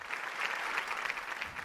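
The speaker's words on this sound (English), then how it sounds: "give her a nice round of applause" Steady applause from a variety show studio audience, a fairly faint but continuous patter of many hands clapping together.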